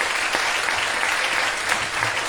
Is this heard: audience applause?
yes